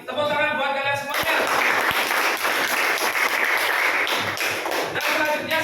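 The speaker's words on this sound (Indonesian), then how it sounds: "Tepuk tangan buat kalian semuanya." A classroom of students breaks into applause for the student groups, a dense burst of clapping that holds steady and loud for several seconds after a voice leads it.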